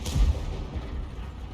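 A heavy Object 261 self-propelled artillery gun fires in a tank video game, one deep booming shot at the start with a low rumbling tail that fades under the game's ambient sound.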